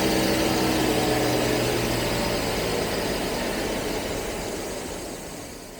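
Jaguar V12 engine idling roughly while firing on only three cylinders, a steady mechanical drone with low pulsing throughout that fades slightly toward the end, heard alone without voices.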